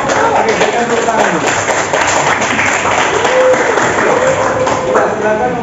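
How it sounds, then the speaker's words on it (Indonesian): A classroom group in a teacher-training session breaks into a round of clapping, a busy patter of hands that runs the whole way through with voices talking underneath. "berikan tepuk tangan"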